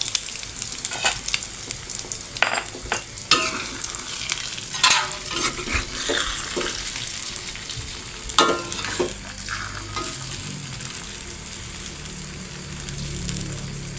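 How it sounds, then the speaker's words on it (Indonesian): A beaten egg omelette with spring onion, shallot, chili and seasoning fries in a pan, giving a loud, steady sizzle with repeated scraping and stirring clatters of a utensil throughout. "Tinggal goreng dadar telur."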